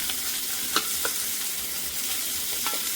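Cooked rice being stir-fried for hot and sour chicken fried rice, a steady sizzle in the pan with a few sharp scrapes of a spatula, close and continuous with no voices.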